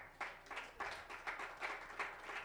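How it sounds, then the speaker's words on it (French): A church congregation clapping in unison, a steady rhythmic beat of about three claps per second, faint and somewhat distant, with no speech. "Est-ce qu'on peut donner une acclamation au Seigneur?"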